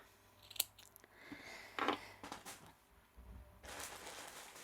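Wool felt being trimmed with scissors on a needle-felted mouse: a few quiet, separate snips close by, with soft handling rustle between cuts.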